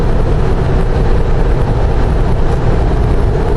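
A stock L92 6.2 litre V8 paired with a 6L80 automatic in a Jeep JK fitted with a snorkel, cruising at about 60 mph in overdrive, gives a loud, steady, continuous drone mixed with road noise inside the cabin.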